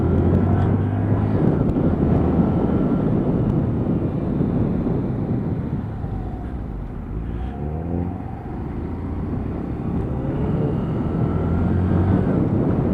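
A Lexmoto Assault E5 125cc motorcycle downshifting, a deep, steady engine rumble throughout, loud and close, with wind buffeting over it and a slight dip and swell in pitch as the revs drop.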